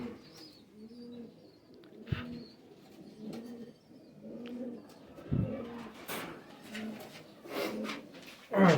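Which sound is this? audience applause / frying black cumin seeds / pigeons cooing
pigeons cooing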